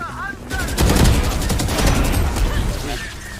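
Rapid bursts of gunfire in the tactical shooter Valorant during a competitive Thai Challengers match, loud and dense, with players talking over the shots.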